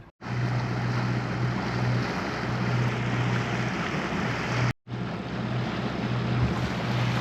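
A sailboat heading out from the dock in wind: a steady, loud rush of wind buffeting the microphone over low hull and water noise, briefly cutting out once before resuming, with no talk.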